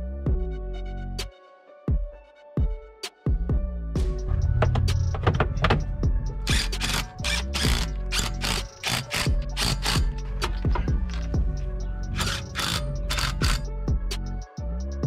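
Wheel nuts on an Audi TT 225 Quattro being run on with a power tool give repeated loud mechanical whirring and ratcheting bursts, some short and some longer, close by and with no talk.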